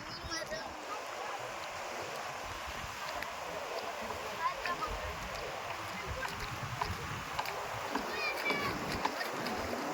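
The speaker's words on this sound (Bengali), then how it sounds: "এই ম্যানগ্রোভের জঙ্গলে ঢেউ চলছে।" Waves wash through a mangrove forest at a river mouth on a coast hit by a low-pressure storm, giving a steady, dense rush of churning water and wind with faint voices underneath.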